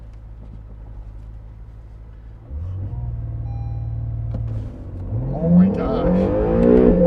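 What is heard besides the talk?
2019 Acura NSX accelerating hard with launch control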